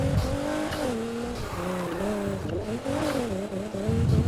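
A Nissan GT-R with a Bensopra body kit races in Need for Speed Heat, its engine whining and shifting pitch through gears with tire squeal, loud and continuous.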